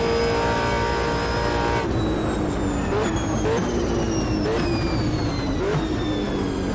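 A V8 supercar at Bathurst in Automobilista 2 roars at high revs, then snaps through quick upshifts, its pitch rising in steps, loud and close throughout.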